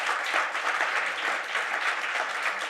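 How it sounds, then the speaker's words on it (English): Applause from a policy launch audience fills the room in a dense, steady wash of many hands clapping, moderately loud and continuous throughout with no talking. "The first round of applause for you."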